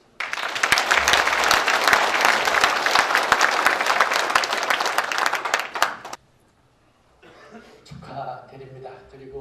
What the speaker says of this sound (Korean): 힘찬 부탁에 박수 좀 부탁드리겠습니다